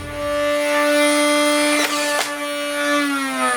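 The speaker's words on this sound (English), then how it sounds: "That was the sound of the wire breaking." A wire pulled by servos on a foam dart gun's trigger snaps with a couple of sharp clicks over a steady whirring motor hum, close and fairly loud.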